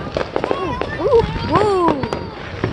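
Fourth of July fireworks explode and crackle nearby in rapid succession, with whistling rockets rising and popping throughout while people talk excitedly.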